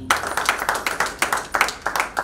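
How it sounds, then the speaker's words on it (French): A small audience claps in uneven bursts at a French gathering, the hands coming in short irregular waves that rise and fall over a couple of seconds, fairly close and unaccompanied by talk. "On peut applaudir."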